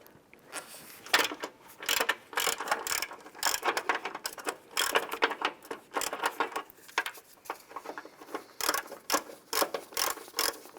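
A ratchet wrench removes the last transmission mount bolt on a 2001-2005 Honda Civic, steady runs of sharp, close ratcheting clicks in quick strokes, broken by brief pauses.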